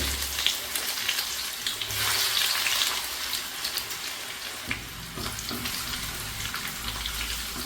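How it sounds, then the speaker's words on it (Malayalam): Sliced shallots and mustard seeds fry in hot oil for a Kerala-style coconut ozhichu curry, giving a steady close sizzle and crackle with a brief watery rush partway through and no talk. "അപ്പോൾ നമ്മൾ വളരെ നൈസായിട്ട് അരിഞ്ഞ് ചെറുള്ളി ഇതിനകത്തേക്ക് ചേർത്ത് കൊടുക്കാം."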